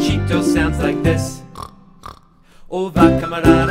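A voice imitates a pig's oink during a children's farm song, with sung lines at the start and grunting, nasal snorts in the middle, close and fairly loud, followed by more singing.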